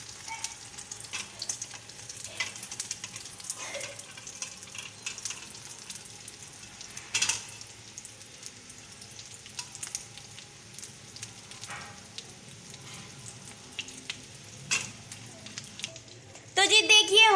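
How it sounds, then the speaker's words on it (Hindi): Shami kebabs, dipped in egg, frying in oil with a soft, steady sizzle and a few clinks of utensils, while someone talks over them. "आप लोग के कबाब जो है वो अच्छे से फ्राई हो रहे हैं"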